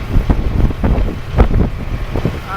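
Strong blizzard wind of around 45 mph blows across open ground in central Illinois, a loud continuous roar with surging gusts buffeting the microphone.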